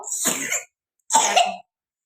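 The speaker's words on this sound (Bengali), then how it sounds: "মেয়েটার এত কাশি হয়েছে" A girl coughs twice, close and loud, each short harsh burst separated by a brief silence.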